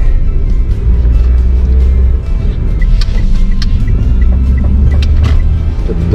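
A Daihatsu Move LA100S turning while driving, with a possible drive shaft fault: a loud, steady low rumble of the car in motion, with faint intermittent clicks and knocks over it, and no talk.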